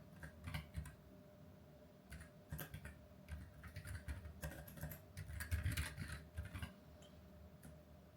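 Someone types steadily on a computer keyboard in a quiet room. Soft, close key clicks come in irregular bursts and short pauses, with no voice.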